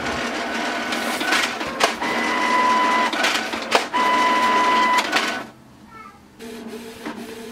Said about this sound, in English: now just wait for the print to come out